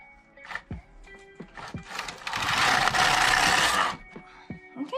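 A Passap E6000 knitting machine carriage is pushed steadily along the needle bed, making a sustained mechanical whirring rush of about a second and a half, with light clicks and knocks before and after.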